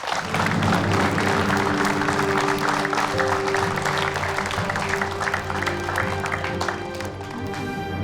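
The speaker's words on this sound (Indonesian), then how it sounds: "Tepuk tangan boleh untuk Ustadz Danu, Bapak Ibu." Sustained audience applause rolls on for several seconds over a low musical drone, then thins out near the end.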